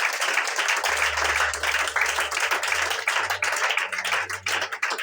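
A church congregation applauding during a worship service, dense sustained clapping up close with a low rumbling hum underneath and some voices mixed in.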